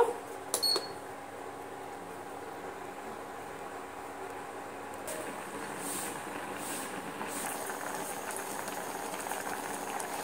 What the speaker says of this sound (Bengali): দিয়ে আমি আলুটা ভালো করে সিদ্ধ করে নেব।